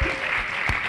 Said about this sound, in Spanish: el público está levantado, está saltando, aplaudiendo